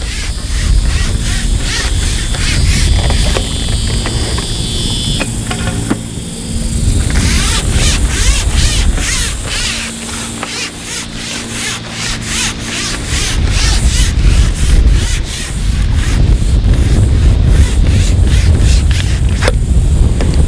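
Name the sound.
wind blowing at fishing match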